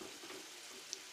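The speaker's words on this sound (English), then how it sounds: "I'm frying on the herbs for the minced fish." Herbs frying in a pan as a base for minced fish, giving a soft, steady sizzle with a faint crackle and one small pop near the end, heard alone.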